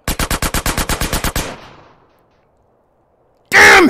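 A rapid burst of about a dozen even, close, loud shots from a gun in GTA San Andreas rings out and fades, then a loud sharp blast cuts in after a short silence.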